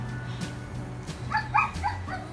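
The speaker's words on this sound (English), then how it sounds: "please ignore the dog in the background" A dog in the background of a home room gives a few short yips and whimpering barks, clustered in a brief burst partway through, moderately loud with no talking over it.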